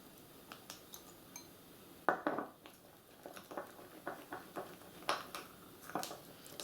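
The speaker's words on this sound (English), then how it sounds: "So be careful when you stir." A spoon stirring food colouring into royal icing in a bowl, heard as a run of light clinks and soft scrapes with an irregular rhythm, close and fairly quiet.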